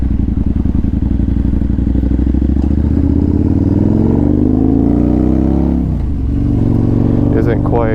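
A big motorcycle, compared against a Harley for torque, rumbles loud and close on the road with a deep steady engine throb that shifts pitch as it revs, and a voice talks over it.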